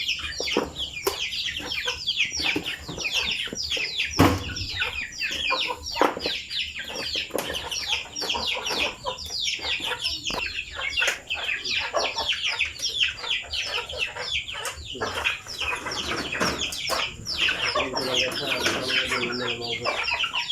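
Many native chickens cluck and chatter continuously at close range while being fed, with a few sharp knocks and brief wing flaps mixed in.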